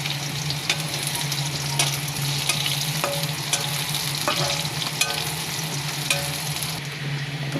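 Chopped garlic sizzles steadily in hot oil as it browns for a fried greens dish, a dense continuous hiss broken by occasional sharp clicks of a spatula stirring the pan, with no voices.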